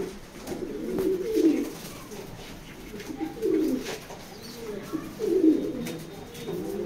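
Racing pigeons coo softly in a loft, repeated low throaty calls rising and falling in short bursts at close range, with no one talking over them.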